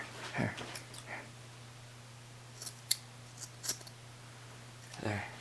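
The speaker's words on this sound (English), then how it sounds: "When will you cut your hair? Right now." Scissors snipping through hair close by, a few short sharp crisp cuts spread across a quiet room with a steady low hum, plus soft breathy rustles.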